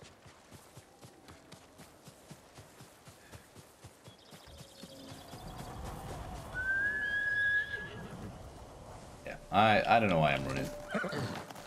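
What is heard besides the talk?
horse neighing in Ghost of Tsushima video game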